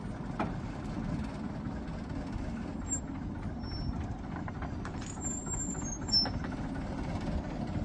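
An old Insley dragline engine, overheating and steaming, runs with a steady low rumble that fills the scene, with faint clanks and a few high squeals rising over the constant drone.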